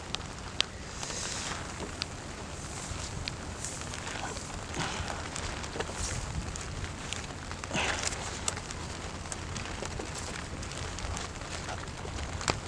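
Steady rain falls across an open vegetable farm growing eggplants and bell peppers in July, a continuous broadband patter with scattered sharper drops and light rustling close by.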